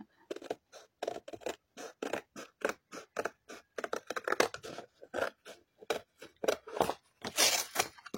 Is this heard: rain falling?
no